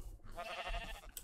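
A sheep bleats in the Minecraft video game, one drawn-out wavering bleat, fairly faint and alone with no talk.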